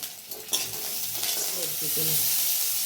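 Close, steady sizzling of chopped garlic and ginger frying in hot oil, with a hiss that swells and continues without pause.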